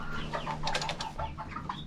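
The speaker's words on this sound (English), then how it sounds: "Sorry, this is a rooster though." Close poultry sounds, a rooster's short clucks and croaks in a quick broken run with no talk over them.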